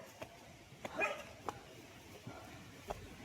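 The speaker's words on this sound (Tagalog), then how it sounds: "Ay, aso." A dog outdoors gives a few faint, brief barks and yips spaced irregularly over quiet background noise.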